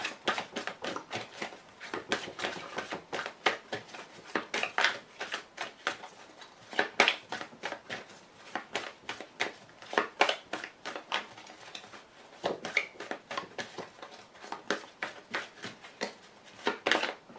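A deck of playing cards is cut and shuffled close up, a long run of rapid riffling flutters and soft slaps in uneven bursts, with no talking.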